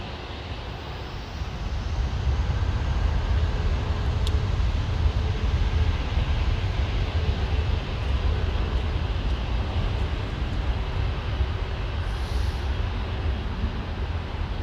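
A jetliner in special livery at London Heathrow Airport roars with a continuous broad, loud engine rumble and hiss that holds steady throughout, sounding fairly near with no voices.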